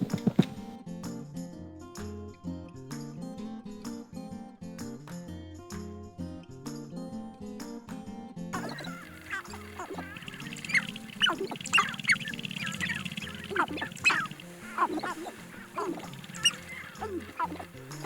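Sharp-tailed grouse in the Tetons near Jackson Hole give rapid clucking, cooing and popping calls with pattering stamps, following a stretch of soft music, moderately close and continuous.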